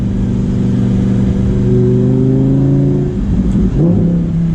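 A Lamborghini Huracán Performante engine roars loudly and steadily in Corsa mode, its pitch climbing as it accelerates, then shifting briefly near the end.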